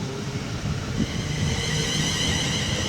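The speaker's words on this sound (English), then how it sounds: "we have another Penzance to Paddington bound HST about to pass by" A Penzance to Paddington HST passenger train runs past, its steady, loud rolling rumble and engine roar building and holding throughout, with no voices.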